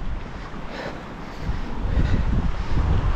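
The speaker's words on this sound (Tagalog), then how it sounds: "Ang sarap ng hangin." Cold mountain wind on a Mount Ugo traverse trail in Benguet, a steady broadband rush buffeting the microphone, swelling louder in the second half with low gusty rumble and no talk.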